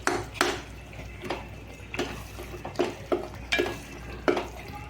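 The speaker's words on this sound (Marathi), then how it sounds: "आता घालूया कांदा खोबरा पेस्ट, मिक्स करून घेऊया." A spatula stirs onion-coconut paste into egg curry in a pan, giving rhythmic, close scraping strokes over a soft sizzle, with no voices.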